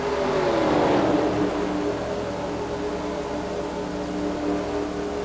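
Race cars accelerating at Daytona in a racing video game, a dense blended engine roar rising in pitch as the field passes close, then holding a steady whir.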